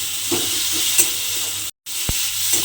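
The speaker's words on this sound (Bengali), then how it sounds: "দিয়ে এবারে মশলাটাকে একটু আমি ভাজা ভাজা মতো করে নেব, যাতে এখানে রসুনের যে কাঁচা গন্ধটা আছে সেটা চলে যায়।" Ginger-garlic spice paste frying in a pan for a soybean curry, a loud steady sizzle with a few stirring clicks, cut by a brief gap of silence.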